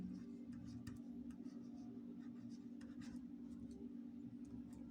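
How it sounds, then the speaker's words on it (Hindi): Pen writing on paper during a maths lesson, faint scratchy strokes and small taps in short bursts over a steady low hum, quiet and close, with no talk. "तो लिखेंगे"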